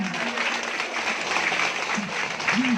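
A crowd claps at a constituency meeting held by an Indonesian parliament member in Southwest Sumba, giving a continuous rough patter of many hands, with faint voices talking underneath.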